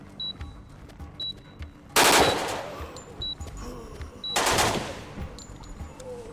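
Gunfire in the tactical shooter Door Kickers 2: two loud, dense bursts of automatic fire separated by a few seconds, with faint electronic beeps and quiet ambience between them.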